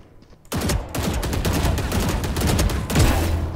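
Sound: gunfire in a video game deathmatch

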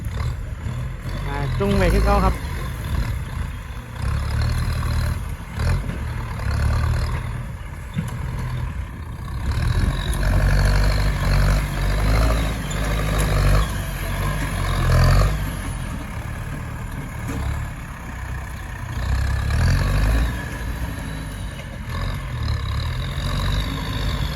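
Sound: Massey Ferguson 4708 tractor engine pushing field bank

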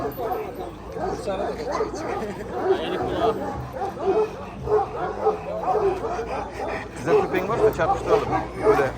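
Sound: dog barking, Pointer-cross hunting dog

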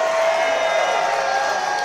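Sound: wrestling crowd applauding and cheering

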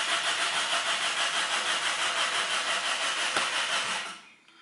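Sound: car starter motor cranking engine that won't start

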